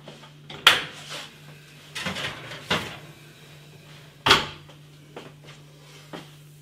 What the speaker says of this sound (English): Let's get them out the oven.